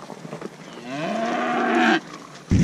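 A single long cow moo rises and swells for about a second, loud and near, in a herd of cattle being gathered, followed by a brief rustle.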